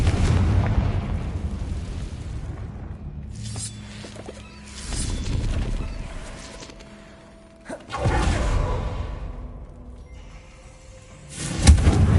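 Confringo fire spell blasts in Hogwarts Legacy on PS5, several booming whooshing explosions at intervals, each swelling and fading, close and fairly loud with quieter stretches between.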